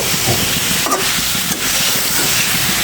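Hot water hits a frying potato and cauliflower curry, giving a steady loud hiss of sizzling steam with crackling bubbles throughout.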